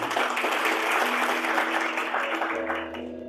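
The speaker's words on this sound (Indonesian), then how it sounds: "Tepuk tangan bagi Tuhan" Church congregation applauding at a worship service, a loud continuous wash of clapping with a sustained tone underneath, fading toward the end.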